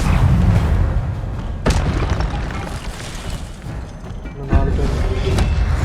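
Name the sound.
Incendio fire spell, Hogwarts Legacy video game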